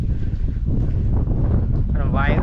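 Strong wind gusting across a hilltop temple, a steady close roar buffeting the microphone, with a faint voice briefly heard near the end.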